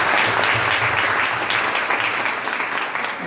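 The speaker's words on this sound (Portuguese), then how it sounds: "eu peço a todos uma salva de palmas para" An audience at a spiritist talk gives a round of applause, a full, continuous rush of many hands clapping at moderate level, with a faint murmur underneath.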